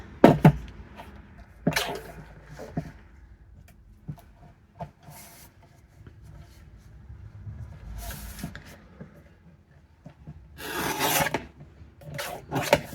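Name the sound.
paper being trimmed for an envelope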